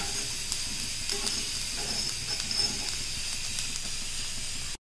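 Peppercorns and fennel seeds roast in a hot pan with a steady, even hiss and sizzle, faint and continuous throughout with a few soft crackles, and no voices.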